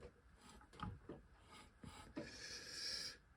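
The front wheel of a Triumph Silver Jubilee Bonneville T140V spins freely while its brake disc rubs lightly in the caliper, making faint, repeated scraping swishes that end in a longer rasping drag, heard close with no talking.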